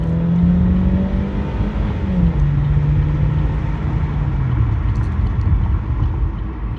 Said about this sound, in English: Let's turn and we'll floor it.